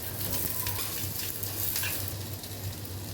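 Onion with a pinch of salt fries in a kadai with a little oil, giving a soft, steady sizzle that stays faint and even, with no talking.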